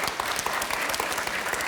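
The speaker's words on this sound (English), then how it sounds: "clapping so loud? Who's clapping?" Audience at a science festival talk on probability clapping steadily, a dense sustained burst of applause filling the room.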